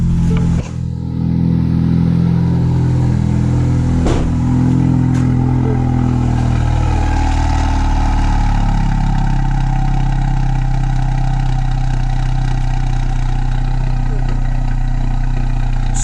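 A Ford Focus RS engine idles steadily with its exhaust valve bypassed and held wide open, a loud continuous low rumble with a brief blip near the start, heard close up without talk.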